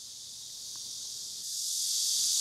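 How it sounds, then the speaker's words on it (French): Cicadas drone in the background as a continuous high, buzzing hiss that swells louder toward the end, with no other sounds over it. "vous pouvez entendre en arrière-plan"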